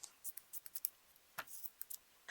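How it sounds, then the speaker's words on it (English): Scissors snip through the fabric sleeves of a turtleneck shirt in a quick series of short, crisp cuts, close and fairly quiet, with brief pauses between strokes. "you're just going to cut off the sleeves in order to turn the shirt into a vest"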